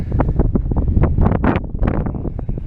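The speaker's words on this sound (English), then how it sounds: "Well, the wind's picked up a bit." Strong wind at a campsite buffets the microphone in a continuous rumbling roar with uneven gusts throughout, and no voices are heard.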